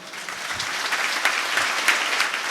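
A congregation claps at a church service in Dubai, a brisk, even wash of many hands held steady throughout with no talking over it.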